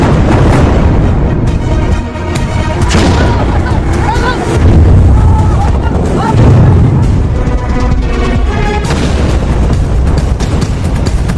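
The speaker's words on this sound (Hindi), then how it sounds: "जहाज को विस्फोट लगाकर उड़ा दिया है" A cargo ship at sea is blown up with explosives, giving dense, loud rumbling with deep booms rolling in partway through.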